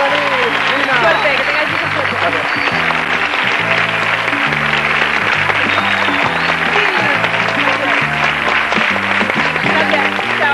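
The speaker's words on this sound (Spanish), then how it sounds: "Fuerte aplauso, Nina" Studio audience applause for a contestant on a Spanish TV game show, a steady dense clapping wash running the whole time beneath thumping music and a presenter's voice.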